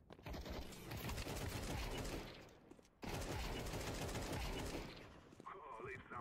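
AK-47 fire in the video game Counter-Strike 2: dense, sustained automatic bursts in two long strings separated by a brief gap, loud and continuous, with a voice faintly under the shooting.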